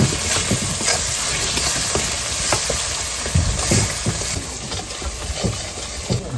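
Spices with salt are stirred and fried in a pan until the masala is cooked through. A lively, continuous sizzle is punctuated by repeated scraping stir strokes, heard close and alone.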